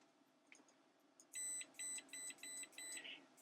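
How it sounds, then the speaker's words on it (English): Fnirsi 2C53T handheld oscilloscope multimeter giving its continuity beep: five evenly spaced, clear electronic tones repeating over quiet room noise. "I hold it, you can hear the beep. It knows it's in continuity."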